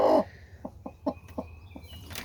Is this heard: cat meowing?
no